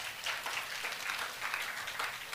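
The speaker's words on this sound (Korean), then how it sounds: "하나님께 영광 박수 올려드리겠습니다" A congregation claps during a Sunday worship service in a church, a brief, fairly distant patter of mixed hands with no voices over it.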